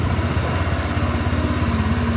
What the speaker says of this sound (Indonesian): langsung aja kita mulai nyalain motornya